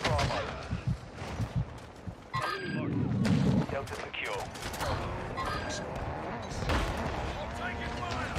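Rapid bursts of video game gunfire crackle through a busy multiplayer Invasion match with a sniper loadout, mixed with shouts and battlefield noise as voices talk over the shooting.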